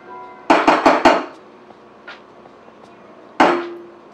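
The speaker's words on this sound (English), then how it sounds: "Give that a quick little stir like that." A spoon clinks against a pot while lavender syrup is given a quick stir, four fast ringing taps in a burst, a faint tick, then one more louder clink near the end.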